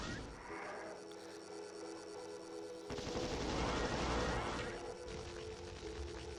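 Chaingunner fights in the video game Doom on Ultra-Violence: dense rapid gunfire with crashing bursts, growing louder and heavier midway through, with a steady hum underneath.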